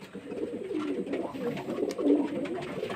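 Pigeons coo softly and continuously in a rooftop loft, a low murmuring chorus of several birds layered together at moderate distance with no talk.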